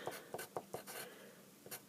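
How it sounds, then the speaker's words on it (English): A pen scratches short strokes on paper while a crochet pattern is written out, a quick close series of soft scribbles and taps with small gaps between them. "So I'm just going to write here,"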